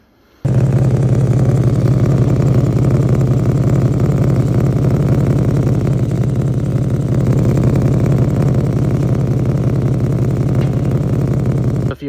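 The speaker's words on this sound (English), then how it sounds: "so then I had an exhaust leak" A 2014 Infiniti Q50 with a muffler delete and an exhaust leak from a hole in the heat-shield area runs continuously, a loud, raspy, droning engine note held steady and close throughout.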